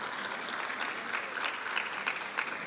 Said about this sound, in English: If you can just give him a round of applause.